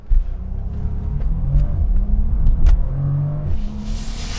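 A Bentley Flying Spur launches hard from a standstill, its deep engine rumble building steadily over several seconds with rising harmonic tones, heard from inside the cabin with no talking.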